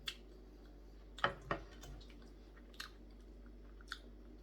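Crunchy peanuts being chewed up close, with a few sharp crunches and softer scattered bites in an otherwise quiet room.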